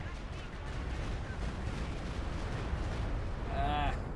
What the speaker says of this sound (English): Another Stukas with barrage. Will this one be better aimed?